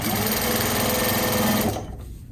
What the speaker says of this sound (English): That's the direction I'm headed with my sewing.